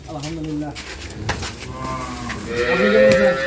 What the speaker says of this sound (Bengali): আতার ভাই কটা গরু আজকে তিনটা